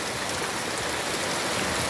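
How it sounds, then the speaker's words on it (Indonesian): Heavy rain pours steadily onto a goat pen under renovation, a dense, even wash of close, loud hiss with no pauses and no voices. "hujan gede."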